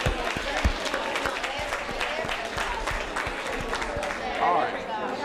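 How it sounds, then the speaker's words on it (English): Audience at a talk on teaching social justice gives itself a round of applause, scattered clapping with some murmuring, fairly close and steady across the few seconds. "give yourselves a round of applause"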